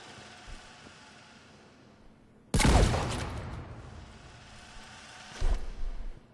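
Wraith shotgun blasts in Mass Effect 3, two sharp, loud shots a few seconds apart, each with a broad burst and short decaying tail over a low background hiss.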